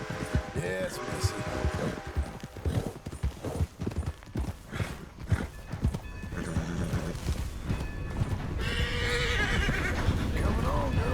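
In Red Dead Redemption 2, hooves clip-clop steadily while a horse neighs and whinnies, with a busy game soundtrack and scattered voices throughout.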